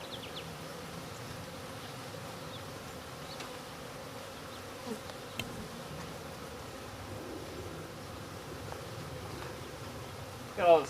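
Honeybees buzz around a backyard hive, a dense continuous droning hum from many insects close by that holds steady throughout, with a few faint handling clicks.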